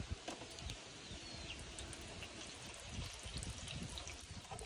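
Water dumped into a homemade PVC rainwater filter system trickles and splashes steadily for several seconds, a soft continuous liquid rush with faint dripping, fairly quiet and without talk.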